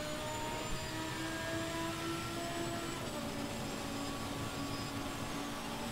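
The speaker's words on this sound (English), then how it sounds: "Do you hear the engine struggling because of traction control?" A racing car engine in a racing video game at Suzuka, held back by traction control: a steady, strained whine that drones on continuously at moderate level, with no talking.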